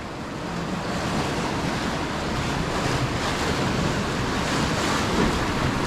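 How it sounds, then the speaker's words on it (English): A water rapids ride at a Plopsaland Deutschland theme park rushes through a wave section, giving a loud, continuous roar of churning, splashing water with a steady wash of noise and no talking. "Awesome ride there on the rapids."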